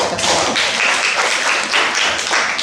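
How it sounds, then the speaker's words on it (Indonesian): A classroom group claps together in a burst of applause that lasts a few seconds, loud and close, with a few uneven swells and no talking. "Beri tepuk tangan dulu dong."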